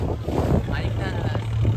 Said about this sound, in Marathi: माझा आवाज थोडा तुम्हाला कमी येईल कारण समुद्रात आहे आपण.